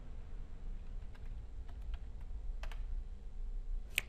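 A web address is typed on a computer keyboard, giving a short run of soft, sparse key clicks over a low hum in a quiet room, with no talk.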